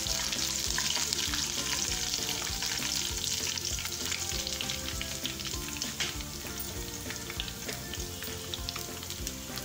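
Coriander leaves sauté in hot oil in a pan for a peanut chutney, giving a continuous bright sizzle with faint stirring clatter, close and steady, with no voices.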